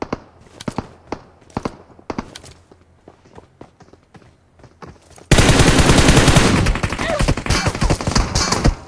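Gunfire in a shooter game: scattered sharp single shots and footsteps at first, then a sudden, sustained barrage of loud automatic fire dominating the second half.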